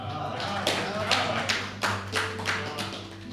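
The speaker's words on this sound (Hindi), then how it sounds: "तालियों से लग रहा है मैं ठीक ठाक सुना रहा हूँ।" Audience at a Hindi poetry recital tapping and clapping in scattered, rhythmic bursts over a steady low hum, fairly close and moderately loud.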